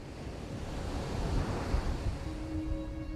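Indian Ocean waves breaking on golden beaches in Western Australia, a continuous surging roar of surf with wind, swelling and easing in waves.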